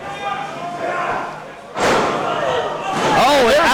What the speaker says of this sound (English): Oh, and out of that suplex